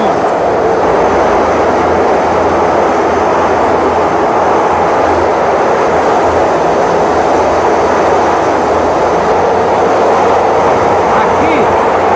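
São Paulo metro train in a tunnel during overnight maintenance, 1981, a loud continuous rumbling roar of rail noise filling the whole stretch with no letup.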